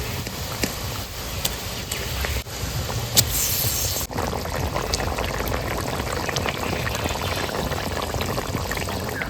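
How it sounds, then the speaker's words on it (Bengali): Fish curry broth bubbling at a steady boil in a pot on the stove, a continuous wet gurgling with a few sharp clinks and knocks early on, fairly close and with no talk over it. "আমার ঝোলটা ফুটে গেছে"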